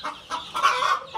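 Chickens clucking on an off-grid homestead in the Middle East, a short run of close, repeated clucks with brief pauses between calls and no talking.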